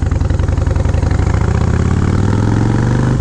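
A motorcycle fitted with short exhaust pipes and quiet baffles thumps along close and loud, its steady low pulsing exhaust note rising slightly in pitch as the engine pulls, with no talking.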